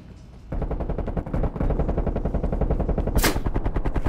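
An XM4 rifle in Call of Duty Black Ops fires in rapid, evenly spaced bursts, loud and close, with a continuous rattling stream of shots after a brief pause and a sharp burst of effects near the end.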